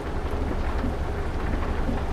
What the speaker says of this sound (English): It's just crazy rain.